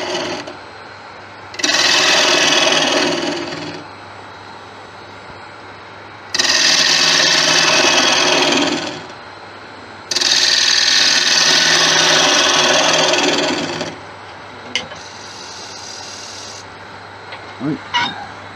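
A wood lathe tool hollows the head of a giant snowman turned from crossgrain tigerwood, giving three loud, close scraping and cutting passes of a few seconds each over a low motor hum, followed by a few faint taps.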